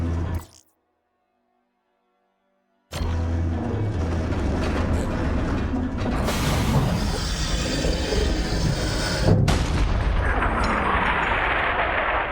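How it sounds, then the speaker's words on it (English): A cannon fires in Borderlands 3: after a short moment of silence, a loud booming blast erupts, followed by a sustained heavy rumble and debris-like crackle that lasts to the end. "Load up the cannon so we can savor the sweet taste of vengeance."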